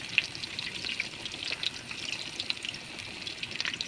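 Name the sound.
luncheon meat frying in a pan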